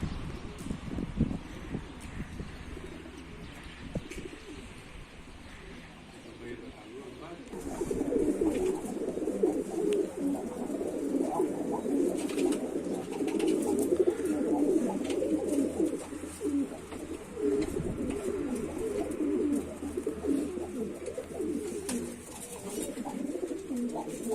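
Tumbler pigeons cooing inside a coop in Mardin: quiet at first, then a dense continuous chorus of low rolling coos from many birds close by, with faint wind and scattered rustling.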